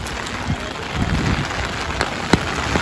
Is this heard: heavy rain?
yes